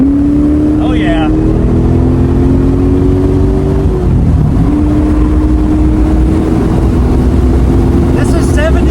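A car accelerates hard with its clutch still slipping, the engine droning loud and close in the cabin with a rising tone that dips briefly before climbing again, while a voice talks faintly over it.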